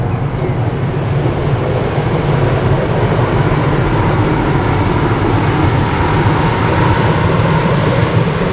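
A distant train runs along a railway line beyond a far tree line in open countryside, a steady broad rumble that stays at an even level throughout with no voices.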